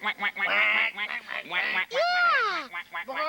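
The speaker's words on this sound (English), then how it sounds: "that sounds like a duck" A cartoonish duck call sounds in a children's television segment, loud nasal honking quacks with rising and falling pitch sweeps, mixed among voices talking and singing around it.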